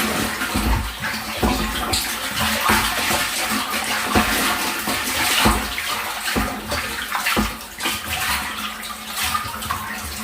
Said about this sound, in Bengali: দেখুন, সুন্দর করে আমরা জলটাকে গুলিয়ে দিলাম।